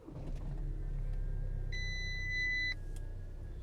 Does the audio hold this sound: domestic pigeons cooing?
no